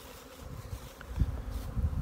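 Bees buzzing around a beekeeper in a busy backyard apiary on a mild day, a steady swarm hum with individual insects passing close, no voices.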